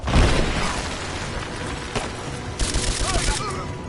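Rapid gunfire bursts from a Rise of the Tomb Raider firefight, dense and loud, with crackling shots and a sharp impact, mixed with game music and shouted voices.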